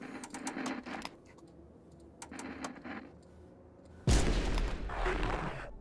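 Video game gunfire rattles out as quick clicking bursts of shots, then a louder, denser volley of fire erupts near the end.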